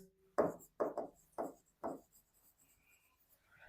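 A pen scratches across paper while someone copies out a UP Board Class 10 exam answer, making four short, distinct writing strokes close by at a steady pace, then falling quiet, with no talking.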